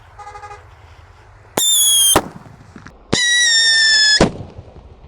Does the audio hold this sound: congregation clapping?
no